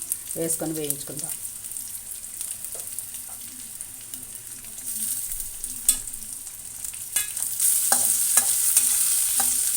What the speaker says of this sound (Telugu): వెల్లుల్లిపాయలు, పండుమిర్చి, ఎండుమిర్చి ఇవన్నీ కూడా వేయించుకుందాం